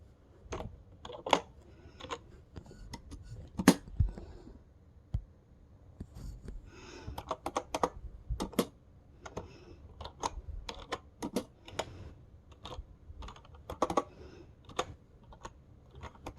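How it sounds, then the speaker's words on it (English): Typing on a wireless computer keyboard, with quick, irregular clusters of light key clicks and taps, close and fairly quiet, with short pauses between bursts and no speech. "It's a wireless keyboard."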